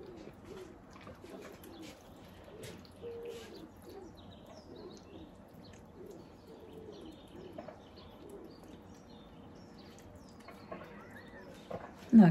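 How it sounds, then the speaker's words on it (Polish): Pigeons coo repeatedly in a quiet outdoor setting, soft rhythmic calls near to mid distance, with other birds chirping faintly in the background and a brief louder knock at the very end. "Wtedy ptaszki słychać, słychać."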